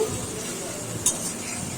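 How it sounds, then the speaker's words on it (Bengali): Mutton ball biryani masala with yogurt, cooking in oil over a low flame, fries with a soft steady sizzle while a spoon stirs it gently, giving one brief clink against the pot. "এবার কিন্তু গ্যাসের ফ্লেমটা কমিয়ে দিয়ে হালকা হাতে নাড়তে হবে খুব ধীরে ধীরে"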